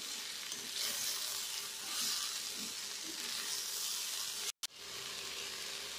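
Bitter gourd, potato and tomato sauté in a pan, a soft continuous sizzle and hiss with occasional gentle stirring and a brief cut of silence, no talking.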